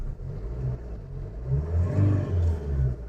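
A Maruti Suzuki Ciaz with ABS, fitted with a new wheel bearing, has its engine running, a close low idle hum that swells into a couple of brief revs.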